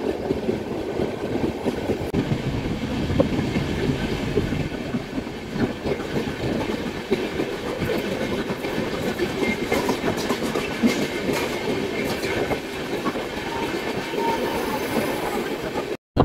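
Steady onboard rumble of the Devagiri Express rolling along, with continuous wheel-on-rail clatter and carriage noise filling the whole stretch at an even, loud level and no talk.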